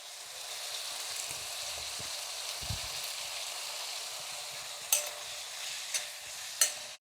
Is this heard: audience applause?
no